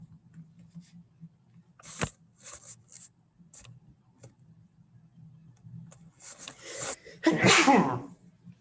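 A single loud sneeze near the end, preceded by scattered soft clicks and quiet low hum.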